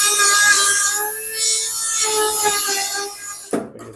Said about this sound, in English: so I'm going to use the Dremel. Hopefully this will cut it enough.